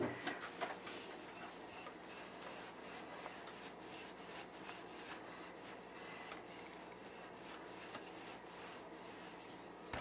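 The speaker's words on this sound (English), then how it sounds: "We're going to do the rolling pin, and we want to do about 1/4 inch or a 1/2 inch thick cookie." A rolling pin steadily rolls out chilled, buttery sugar cookie dough to about a quarter or half inch thick, making a soft, continuous rubbing with faint regular bumps from each pass, close and quiet, with no talking.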